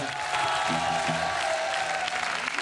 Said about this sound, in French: On peut applaudir avant de commencer nos musiciens